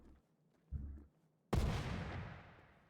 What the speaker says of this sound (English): The remote detonate explosives that will stick to anything they are thrown at.